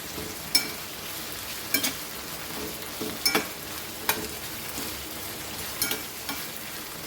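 Tomatoes and vegetables frying in a pan for pav bhaji, a steady close sizzle broken by irregular sharp clinks and scrapes of stirring, with no voices.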